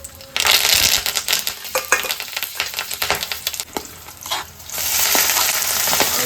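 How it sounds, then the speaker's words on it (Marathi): Whole spices hit hot oil in a heated kadhai for a tender cashew mutton masala, setting off a loud close crackling sizzle that sputters unevenly, then swells again to a steady hiss. "तेलामध्ये आहे ना खडे मसाले टाकून घेतले"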